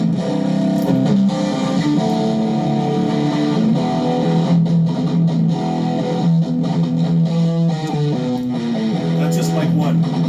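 Electric guitar amplifier picked up by two microphones blended together, a Shure SM57 and a Sennheiser MD421, giving a dense, distorted sustained chord with steady loudness and occasional shifts between strummed notes over ten seconds.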